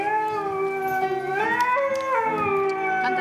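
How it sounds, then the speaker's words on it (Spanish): Husky dog howling in a long, wavering, melodic tone that rises and falls as if singing, close and loud, with no speech over it. "Mira, ahí tenemos el perro que canta"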